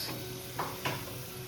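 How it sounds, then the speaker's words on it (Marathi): French fries sizzle in hot oil at home during Diwali cooking, a quiet steady hiss broken by two short scraping stirs, with no voices. "फ्रेंच फ्राईज बनवणं चालू आहे"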